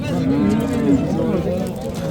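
A loud, drawn-out low moo from nearby cattle at a cattle market, with overlapping bovine calls sounding together.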